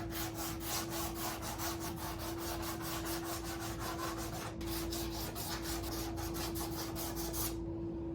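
Sandpaper or a sanding block scuffing painted wood furniture to give it a distressed look, a steady run of quick back-and-forth rubbing strokes, close and continuous over a constant background hum.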